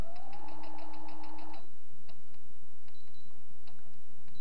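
Sewing machine stitching through the middle of a cushion cover, a steady whirring run of rapid stitches for about a second and a half, then stopping, followed by faint light clicks and handling.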